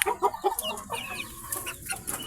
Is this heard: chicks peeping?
yes